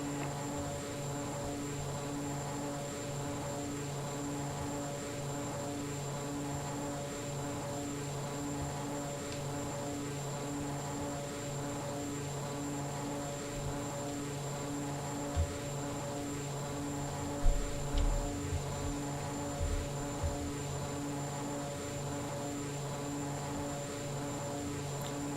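Steady propeller drone of a Bombardier turboprop cruising in the FSX flight simulator over Papua New Guinea, a constant hum with a few faint clicks and bumps near the end.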